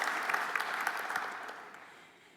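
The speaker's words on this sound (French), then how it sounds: "applaudissons Bordeaux." Brief applause from a conference audience at a public procurement event, celebrating Bordeaux; fairly faint, steady clapping that tapers off within a couple of seconds.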